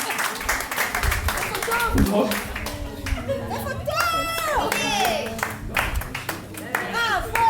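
An audience at a French nursing-home pageant claps in a burst of applause, close and lively, while people talk and a few laugh over it.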